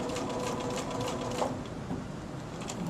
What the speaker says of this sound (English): I'm going to sew to the edge, pivot, and go around all 4 sides at 1/8 of an inch